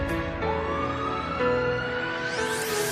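An ambulance siren wails loudly and continuously, its tone sliding upward and holding, alone without voices.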